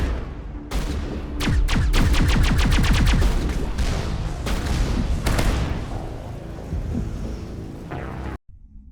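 Turret gunfire in Mass Effect Legendary Edition, a loud, rapid burst of repeated shots that speeds into a dense rattling stream, then thins into scattered blasts over a rumbling background before cutting off.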